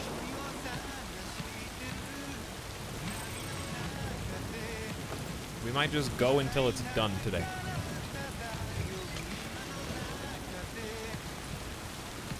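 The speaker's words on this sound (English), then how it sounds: "I'll let you listen to the rain song." Steady rain falls in the video game Death Stranding as a soft, continuous hiss, while a person talks over it and the sound briefly swells midway.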